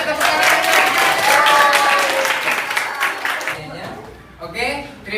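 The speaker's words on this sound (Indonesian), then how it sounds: "Luar biasa, iya tepuk tangan." An audience applauds with a steady wash of clapping that gradually fades, followed by a brief voice at the end.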